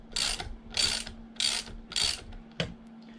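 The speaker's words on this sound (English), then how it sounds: "make sure your ratchet's set to go off, and you remove the nut" A hand ratchet, set to loosen, works a nut off a roller skate wheel: four loud buzzing clicking strokes in a steady rhythm, then one short final click, up close with a faint constant hum beneath.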